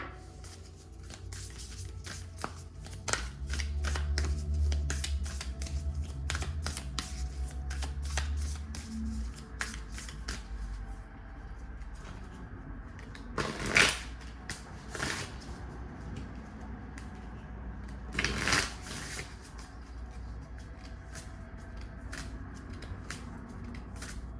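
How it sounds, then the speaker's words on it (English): Oracle cards from a rose-themed deck are shuffled by hand at close range, a continuous dry riffle of rustles and soft slaps with a couple of sharper card snaps, no talking. "Let me pull one last oracle card from the Rose Oracle."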